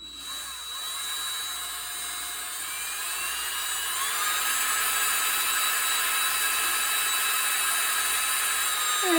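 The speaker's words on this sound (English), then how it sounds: "just run it until I can see some uniform sanding on the tread" Power drill spinning a 1965 Chevy Impala model car tire mounted on a socket against sandpaper, a steady high-pitched whine holding for about nine seconds and swelling slightly louder midway.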